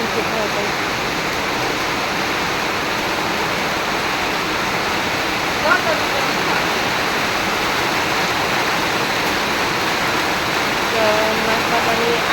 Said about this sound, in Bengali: যে পরিমাণ বৃষ্টি